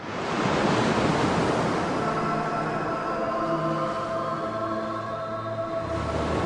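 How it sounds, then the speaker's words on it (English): Sea surf breaking and washing in a steady roar, with wind buffeting the microphone and a deep low rumble swelling beneath near the end. "The sea has often been thought to be a malevolent force actively out to get you."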